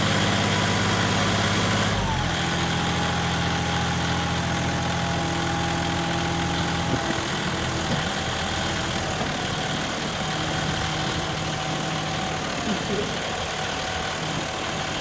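A John Deere 5210 tractor hitched to an 18-disc harrow idles with a steady, loud engine drone; the tone drops and shifts as it settles, with wind-like noise throughout.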